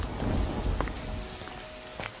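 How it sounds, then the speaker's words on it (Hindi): Heavy rain pours down in a dense, continuous hiss, with heavy drops spattering on surfaces and a low rumble underneath. "लेकिन बारिश थी कि रुकने का नाम ही नहीं ले रही थी।"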